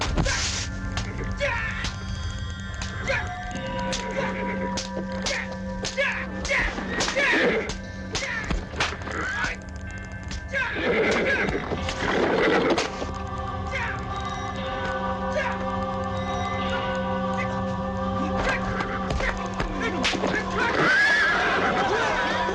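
Horse neighing and whinnying with clip-clopping hooves and thuds, set amid a busy, loud period-drama scene with music and voices; calls recur through the stretch, with a strong burst near the middle.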